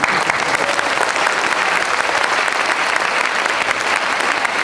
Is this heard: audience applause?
yes